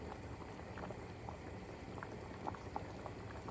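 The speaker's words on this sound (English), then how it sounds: "So now you see how fast that's boiling?" Liquid boiling in a pot while cooking a salmon meal, a steady close bubbling and low rumble with small pops, no talking.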